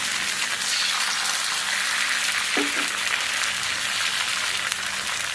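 Garlic sizzles steadily in a hot pan, a dense, even crackle like light rain that holds at a constant level throughout, with no voices.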